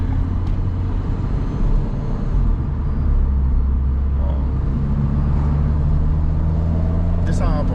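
An Alpine A110 GT drives on the road, giving a steady low engine drone and road rumble that builds slightly as it accelerates after a downshift, with a brief higher whine near the end.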